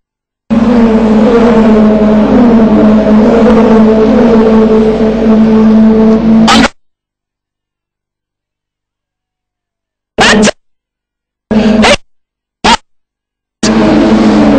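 Racing cars, touring cars including Ivan Muller and Farfus, roar loudly out of the last corner for several seconds with harmonic engine drone, then cut off, followed by a few short bursts of engine noise after silence.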